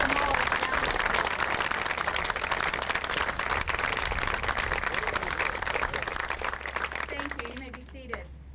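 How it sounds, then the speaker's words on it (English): A crowd applauds volunteers at a lighthouse roof gazebo dedication at Cape Canaveral, steady dense clapping for about seven seconds before it thins out and a voice speaks. "I'd like to give them all a round of applause."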